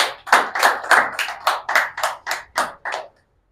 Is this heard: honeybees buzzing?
no